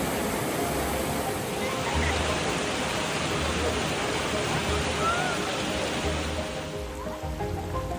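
Steady rushing water flows continuously in a mountain stream in Mykulychyn, Ukraine, a broad, full hiss like a fast stream running nearby with no pauses.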